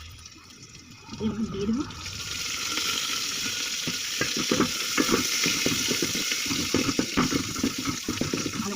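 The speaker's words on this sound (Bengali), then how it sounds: "ধনিয়া পাতাগুলোকে ধুয়ে নেবো।" Coriander leaves washed in water, with continuous splashing and stirring-like agitation at close range under a voice speaking.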